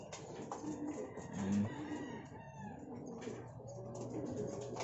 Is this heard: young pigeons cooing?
yes